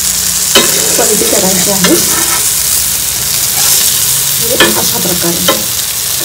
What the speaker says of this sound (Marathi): आता ही छानपैकी मस्त कुरकुरीत अशी फ्राय करून घेऊया